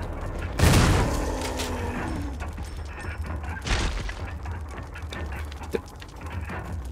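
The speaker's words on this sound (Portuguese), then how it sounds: "Três tiros de lança-granada e... uma bala de shotgun." Grenade launcher rounds in the Resident Evil 1 Remake go off as two heavy blasts a few seconds apart, the first loud and crashing with a long rumbling tail, the second softer, over steady game background noise.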